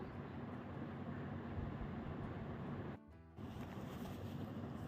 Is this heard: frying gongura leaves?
yes